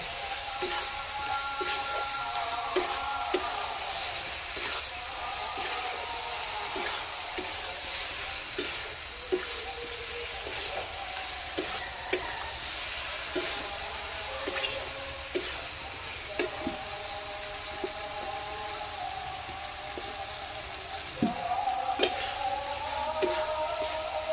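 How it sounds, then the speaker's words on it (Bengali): Potatoes stir-frying in spiced oil for an egg and spinach dish, a soft steady sizzle with scattered light clicks and scrapes of stirring, quiet and close. "আলুগুলো দিয়ে একটু খানিকক্ষণ কষতে থাকবো।"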